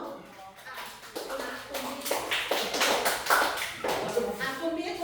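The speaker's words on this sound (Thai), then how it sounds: "นักเรียนปรบมือให้เพื่อนหน่อย" A class of grade 9 students in a Thai classroom applauds a classmate with a burst of steady, fairly close hand claps lasting several seconds, with voices mixed in.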